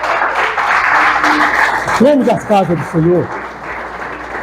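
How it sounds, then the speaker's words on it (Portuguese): Church congregation applauding during a sermon, broad steady clapping filling the room that swells loudly from the start, then a preacher's voice speaks over the continuing applause. "Os irmãos estão livres para aplaudir a hora que vocês quiserem."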